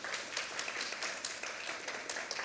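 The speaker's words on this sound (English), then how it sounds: "So can we get a round of applause for them?" Soft, dense audience applause fills a graduation ceremony for a volunteer programme, heard as an even patter of many hands at a distance without any clear voices.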